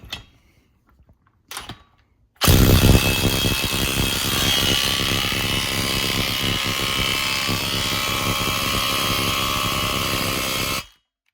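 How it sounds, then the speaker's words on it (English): A ball joint press forcing an insert into a Dana 60 steering knuckle on a Jeep Wrangler JKU: a couple of brief knocks, then a loud, steady mechanical rattling buzz that runs unbroken for about eight seconds before cutting off. "we are going to use our ball joint press and rattle this thing in there"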